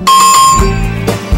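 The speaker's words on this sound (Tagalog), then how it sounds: "Click the notification bell." A bright bell-like notification chime rings out loud and close, with a few quick tones followed by a ringing tail.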